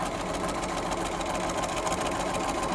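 A Bernina sewing machine stitches quilt pieces at a steady, fast whir, running continuously and up close without pause.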